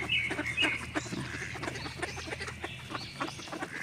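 Several ducks quack and call in a busy, overlapping chorus close by, with bursts of squawks over a constant background murmur.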